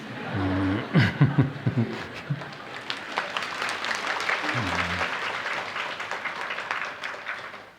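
A lecture audience at a talk on the Classic of Filial Piety breaks into applause mixed with light laughter, the clapping building into a steady patter after brief voices at the start.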